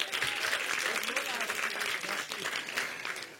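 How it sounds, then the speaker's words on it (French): A studio audience at a French game show applauds a pun, dense sustained clapping with some voices underneath. "On peut l'applaudir, celui-là."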